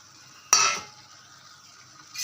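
A spoon scrapes once through a pan of drumstick curry as chili powder, coriander powder, garam masala, salt, turmeric and coconut powder are mixed in, then a quieter sizzle and a second stir follow.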